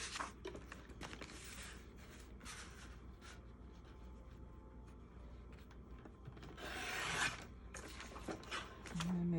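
Scissors cut through a paper bag while a journal is being made, giving close, faint rasping snips and rubs in short bursts, with a longer scraping cut near the end.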